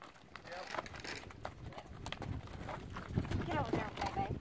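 Horses at feeding time shuffle and clip-clop nearby, soft irregular hoof thuds on the ground mixed under people talking and calling to the animals.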